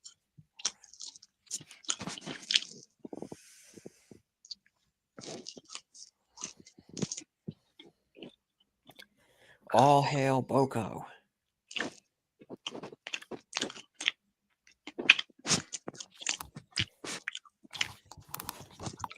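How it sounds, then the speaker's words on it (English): Loud, close chewing and crunching in quick irregular bites, repeated through most of the stretch, with a brief spoken phrase near the middle. "you are chewing so loud"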